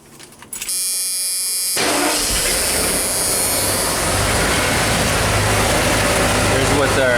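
A 1988 Ford F350 dump truck V8 with a misfire and low power starts up and settles into a loud, steady idle close by, with a buzzing, rough drone that continues unchanged.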